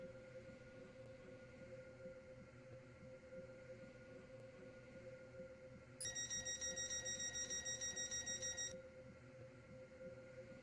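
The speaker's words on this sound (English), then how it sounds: "The train now approaching platform 7." In the video game Stepford County Railway, a steady low rumble of a Class 801 train approaching a platform hums throughout, joined midway by a few seconds of rapid, evenly pulsing high electronic tones.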